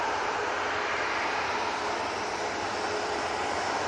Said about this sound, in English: We have an arrival coming in from Malaga. It's the EasyJet, just touching down now.